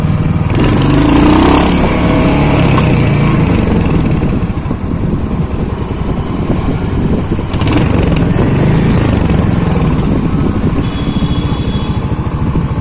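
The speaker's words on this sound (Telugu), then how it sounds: "let's try the gear shifting and so listen to the sound" A Royal Enfield Hunter 350 motorcycle is ridden with its single-cylinder engine thumping loudly and continuously up close, the pitch shifting slightly as the rider changes gears.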